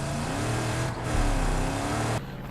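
A car driving in the video game Far Cry 5, a steady, loud engine drone that rises slightly in pitch midway before easing off near the end.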